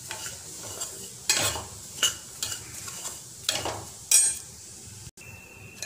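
Semolina (rava) roasting in ghee for rava pongal, stirred in a pan with repeated scraping strokes over a soft, steady sizzle, each stroke rising briefly and fading.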